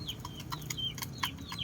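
Native Bisaya chickens cluck in short, soft, repeated calls, close by in a quiet yard, with no talk over them.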